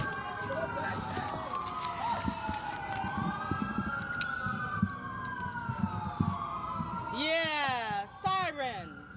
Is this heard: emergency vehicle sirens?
yes